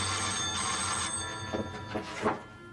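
A telephone rings in a domestic drama scene, a steady electronic ring over the opening second, then several shorter bursts fading in and out, fairly loud with no talk over it.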